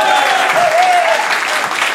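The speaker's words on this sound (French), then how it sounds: "Applaudissez-vous!" Audience applause at a comedy show, a dense steady wash of clapping across the whole stretch, loud and close, with whoops and voices mixed into the crowd noise.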